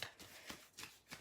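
A deck of playing cards being shuffled repeatedly, each riffle a crisp, fluttering burst close by, arriving in a steady rhythm about every third of a second with brief gaps between.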